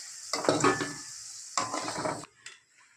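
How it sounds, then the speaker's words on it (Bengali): Large cut potato pieces frying in oil in a pan, sizzling in two bursts as they are stirred and lifted, with a scrape of the utensil between, close and moderately loud before fading out. "মাংসের আলু ভেজে ভাজছি"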